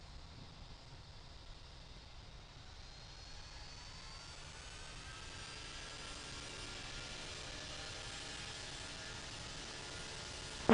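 Aircraft engine noise near Heathrow's runway 27 left: a distant, steady jet roar that slowly builds in loudness across the clip, with a faint rising whine.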